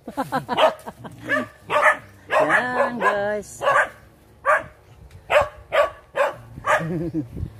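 A dog barks and yips repeatedly nearby in uneven bursts on Poo Island in Bohol, Philippines, with some whimpering, while a person speaks briefly between barks.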